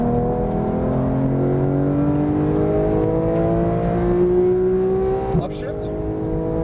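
A Porsche 911 GT3 of the 991 generation revs hard on a track, its engine pitch climbing steadily under acceleration before a sharp upshift near the end, loud and close throughout.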